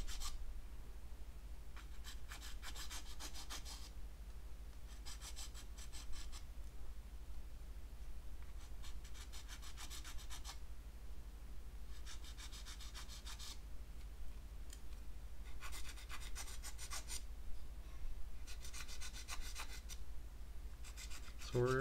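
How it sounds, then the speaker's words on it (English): A file rasps notches into the plastic gate of a PhobGCC GameCube controller, coming in short bursts of scratchy back-and-forth strokes separated by quiet pauses, close and fairly soft, with no talk. "So sometimes filing from a different angle helps sort of show you where you're"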